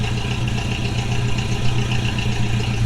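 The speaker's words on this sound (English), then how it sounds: "It's idling now, though." A project car's engine idles steadily up close, a continuous low rumble with light clatter and no revving, running alone without talk.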